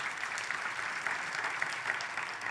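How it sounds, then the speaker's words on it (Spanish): Church congregation applauding during a service, a steady dense patter of many hands clapping together, moderately distant and even in level throughout, with no voices over it. "Denle un fuerte aplauso al Señor en este día."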